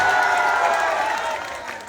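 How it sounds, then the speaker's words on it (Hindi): A rally crowd bursts into loud, sustained applause and cheering to welcome Raju Singh, a dense wash of clapping that holds steady, then eases slightly toward the end. "एक जोरदार ताली से राजू सिंह के स्वागत।"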